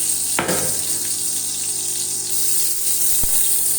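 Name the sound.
ghee being poured into a karahi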